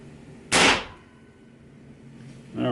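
Crosman 2240 air pistol converted to PCP high-pressure air firing a single shot, one sharp loud crack with a short decay, followed by a quieter handling noise a couple of seconds later.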